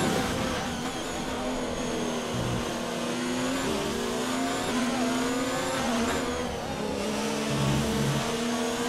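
A Formula 1 car in F1 2019 at the Australian Grand Prix in Melbourne, engine screaming as it accelerates through rising gears with shifts, loud and continuous throughout with some tyre squeal.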